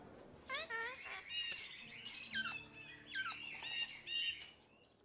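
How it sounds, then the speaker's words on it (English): Exotic birds in a golden cage in The Thaumaturge chirp and squawk in bright, fluttering calls, close and fairly clear, with a low background hum underneath. "A golden cage. Exotic birds."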